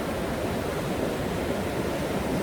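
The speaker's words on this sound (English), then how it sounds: "The waves are pretty good." Steady surf rolls onto a packed-sand beach on the Bolivar Peninsula, Texas, a continuous close wash of breaking waves with no talking.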